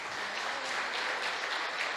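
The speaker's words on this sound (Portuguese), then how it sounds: "Dê uma salva de palmas para Jesus." A church congregation claps in a steady dense wash of applause, close and even throughout the short moment, with no speech over it.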